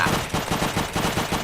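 A fully automatic WW2 gun fires in the video game Unturned, a loud, rapid, unbroken burst of shots in a steady rhythm, close and dominant throughout.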